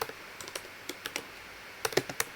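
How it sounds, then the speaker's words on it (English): Fingers tap out a quick, uneven run of keystrokes on a computer keyboard, close and crisp, with a denser flurry near the end and no voices. "So I'm gonna go ahead and type this in real quick."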